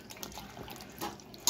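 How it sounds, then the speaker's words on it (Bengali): Pointed gourds being washed under running water at a sink, a soft, faint trickle and splash with a brief louder splash at the end. "চলো পটলগুলো ধুয়ে নিই"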